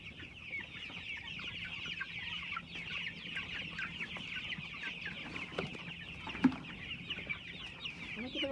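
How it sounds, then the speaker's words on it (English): Several chickens on a farm in the Jamaican countryside cluck and chatter continuously at close range, with scattered sharper squawks over a low background hum. "Oh my god, the chicken is coming out."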